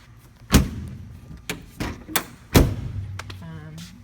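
Several solid thumps and clunks as the door of a Cessna 172 airplane is opened, closed and handled during a preflight check, with a spoken voice between the knocks.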